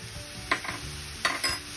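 Vegetables stir-fried with a soya mixture in a hot pan, a steady low sizzle broken by two brisk stirring scrapes of a utensil, close and without talk.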